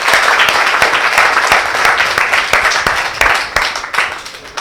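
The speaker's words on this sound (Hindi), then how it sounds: "एक बार तालियों के साथ स्वागत कीजिए भाई।" Steady, energetic applause from a kavi sammelan poetry audience welcoming a poet, with distinct individual claps standing out from the dense crowd clapping throughout.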